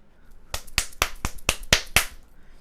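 Seven sharp, evenly spaced hand claps ring out close by in a quiet room, quick and crisp with brief gaps between them.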